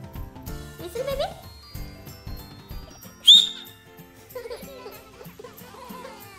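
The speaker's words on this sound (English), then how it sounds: "Show me how you whistle." A baby gives a single short, shrill whistle-like squeak in the middle of the clip, among an adult's encouraging speech and background household sounds.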